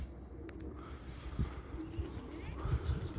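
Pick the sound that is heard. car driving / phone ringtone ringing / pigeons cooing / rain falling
pigeons cooing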